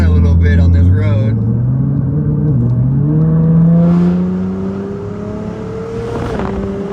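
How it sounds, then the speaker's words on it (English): An 800+ horsepower Nissan GTR accelerates from inside the cabin, its exhaust note rising steadily in pitch through a gear change, loud and close, with a low rumble underneath. "Hopefully you guys can hear that exhaust."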